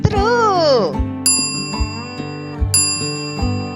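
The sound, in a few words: teacher's bell ringing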